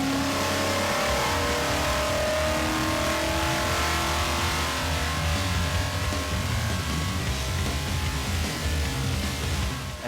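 A Chevrolet LS V8 running on a Holley Dominator EFI setup during a baseline run, a loud, steady engine roar that holds strong and continuous throughout with revving character and no talk over it.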